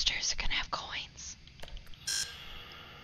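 A store checkout scanner in the video game In Sound Mind gives one short, bright electronic beep, preceded by quiet whispery talk and soft game noises.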